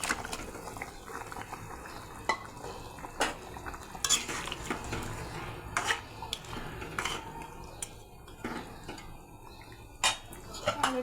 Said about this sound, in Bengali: এখন ভেজে রাখা মাছের মাথাগুলো দিয়ে দেবো।